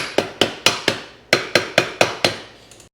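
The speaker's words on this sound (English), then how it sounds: "Let's see if I can just kind of tap down some of the sharp edges." A hammer taps down the sharp edges of a stripped screw, giving eight crisp, close metallic strikes at a fairly even pace, each ringing briefly before the next.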